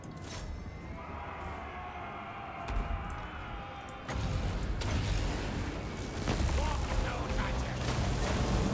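Artillery fire booms in a strategy video game, with rumbling blasts and crackling gunfire building into a dense, loud barrage while someone talks over it.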